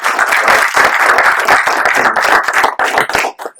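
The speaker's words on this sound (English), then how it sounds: "a partner deserves a round of applause as well" Audience applause at a Tech Tuesday FinTech event in the UK, a dense loud burst of many hands clapping that thins out and trails off into scattered claps near the end.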